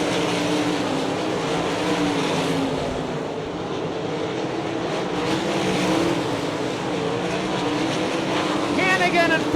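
World of Outlaws sprint cars race around the dirt speedway at Hartford, Ohio, a steady engine roar that holds throughout under a commentator's talk.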